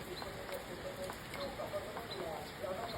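Steady rain pattering on a surface, a continuous wash of drops with faint voices in the background.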